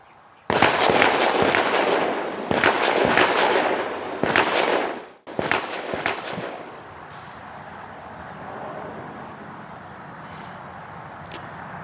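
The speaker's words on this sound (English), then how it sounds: "authorities deployed those flashbangs just before" Several loud, sharp police flashbang grenades go off in quick succession outdoors outside a home, followed by a fading rumble and quieter background noise.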